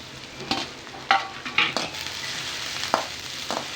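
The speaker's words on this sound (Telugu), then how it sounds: "పొయ్యి మీద కడాయి పెట్టుకొని ఆయిల్ వేసుకొని పచ్చిమిర్చి, ఉల్లిపాయ వేసుకొని వేయించుకోవాలి" Green chillies and onion fry in oil in a kadai for cabbage manchurian, a close, continuous hiss broken by a few scraping stirs and clanks of a spatula, with no voices.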